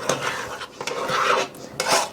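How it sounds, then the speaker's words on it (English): Egg yolk filling for a no-bake pineapple lemon pie stirred in a pot, with close, steady scraping and clinking of a utensil against the pot. "do not quit stirring or it will stick to the bottom"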